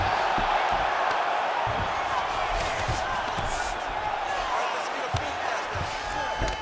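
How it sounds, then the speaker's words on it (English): A video game arena crowd at a UFC 5 bout, featherweight Calvin Kattar's fight, roars in a steady, loud wash of cheering and whooping as the fighters get back to their feet, with occasional thuds beneath and commentary voices over it. "big pop from the crowd as they get back to their feet"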